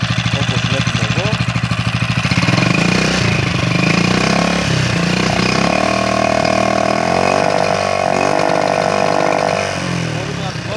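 A Yamaha motorcycle with electronic throttle control runs in neutral while fixed on a stand. The engine sounds loud and close, with a fast rhythmic idle that shifts as the throttle rises and falls.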